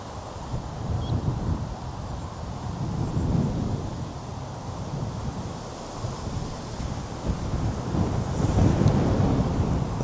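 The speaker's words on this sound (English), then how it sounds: "That wind is terrible." Strong wind roars across a frozen winter lake, buffeting the microphone in a continuous, gusting rumble that swells and eases without a break.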